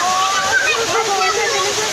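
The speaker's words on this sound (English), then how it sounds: "There's the waterfall." A waterfall rushes with a steady, broad wash of falling water close by, while voices talk over it.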